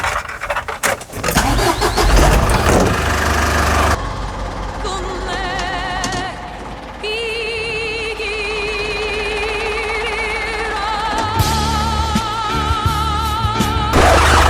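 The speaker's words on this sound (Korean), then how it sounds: "시동을 걸고요 엔진 룸을 한번 보여드려 볼게요" An Isuzu Mighty 2.5-ton wing body truck engine cranks and starts with a loud burst, then settles into a steady, close idle, with a rising tone partway through.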